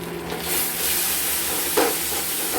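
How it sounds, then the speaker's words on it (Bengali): Masala for prawn paneer frying in a pan, a close, steady sizzle with faint stirring scrapes throughout. "এটা আমরা ভালো মতো করে কষবো"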